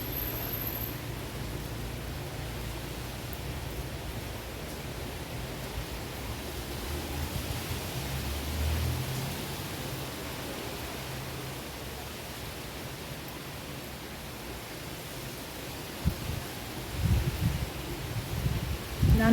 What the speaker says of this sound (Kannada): ಹೊರಗಡೆದು ಗಾಳಿ ಸೌಂಡ್ ಕೇಳಿಸ್ತಾ ಇದ್ದರೆ ಇಗ್ನೋರ್ ಮಾಡಿಕೊಂಡು ವಿಡಿಯೋನ ನೋಡಿ